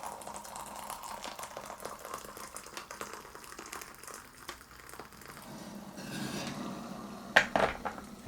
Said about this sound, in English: Got my water at the boil. Pour in about 10 ounces.